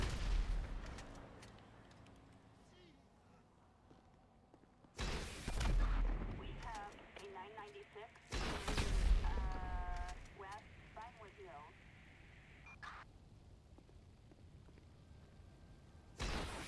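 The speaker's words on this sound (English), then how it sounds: "stop shooting rockets at my crib" Rocket explosions blast at a house in Grand Theft Auto V, two loud booming bursts with rumbling tails amid scattered gunfire and game sounds, with speech between them.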